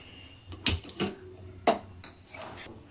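A pot of milk is set down on a kitchen stove, giving a few sharp metallic clanks and knocks spaced over a few seconds against a quiet room.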